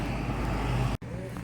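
Traffic control vehicles pull away from a roadworks site, their engine and road noise forming a steady rumble with a brief cut near the end.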